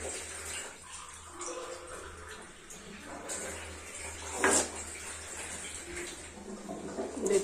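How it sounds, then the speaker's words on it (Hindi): Water is poured from a small glass into a cooking pan for a potato and papad curry, a soft splashing trickle that swells into a brief louder gush midway and picks up again near the end. "देखिए मैं पानी डाल रही हूँ"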